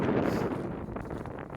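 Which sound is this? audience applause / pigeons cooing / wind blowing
wind blowing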